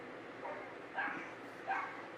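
Two faint, high yaps from small dogs in the distance, over a steady background hiss.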